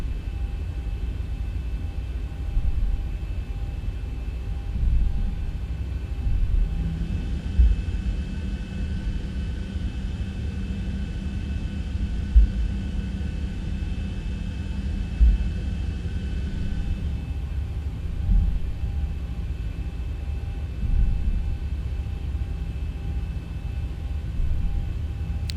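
A Boeing 737 taxiing toward the runway in the X-Plane 11 flight simulator gives a steady, continuous engine rumble and hum that holds for the whole stretch, with faint thumps and no talk over it.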